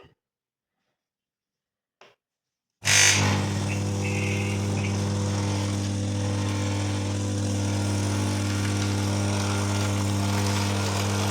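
An Electrolux coffee machine under repair for a leaking cappuccino frother clicks on after a near-silent pause, then its pump settles into a loud, steady mechanical hum that continues unbroken to the end.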